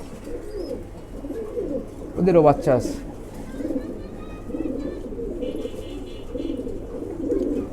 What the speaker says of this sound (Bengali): এই যে এক পেয়ার কবুতর